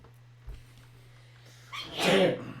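A single sharp human sneeze bursts out near the end, preceded by a quick intake of breath, over a faint steady hum in a quiet room.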